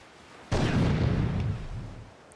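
A single explosive charge detonates in the survival video game Ark Survival Evolved, a sudden loud boom with a broad rumbling tail that slowly fades over about two seconds.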